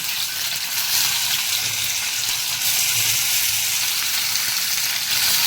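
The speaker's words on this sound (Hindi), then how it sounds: "कढ़ाई गरम हो गई। ज़्यादा ना थोड़ा थोड़ा पनीर डालम।" Paneer pieces dropped a few at a time into a hot kadhai with onions, giving a loud, continuous close-up sizzle and crackle that holds steady with no speech.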